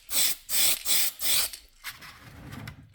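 Four loud, close bursts of hissing spray from a can of Tamiya flat white paint, evenly spaced, followed by a few fainter short puffs and soft handling noise.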